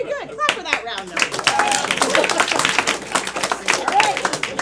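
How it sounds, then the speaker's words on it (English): Audience clapping after a game round at a live game show event, a dense run of sharp claps from many people nearby, mixed with cheers and voices through the burst. "Clap for that round, though."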